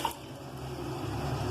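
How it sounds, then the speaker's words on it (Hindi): Water pours steadily from a jug into a pot of two kilos of washed rice, a continuous close splashing fill with a soft gurgle. "अब इसमें मैं पानी डाल रही हूँ।"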